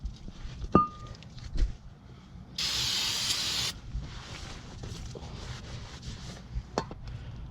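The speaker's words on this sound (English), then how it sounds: "We're using our brake parts cleaner." A sustained spray of brake parts cleaner hisses for about a second, loud and close, amid quiet clatter and a few sharp clicks during brake pad and rotor work on a Ford Transit Connect.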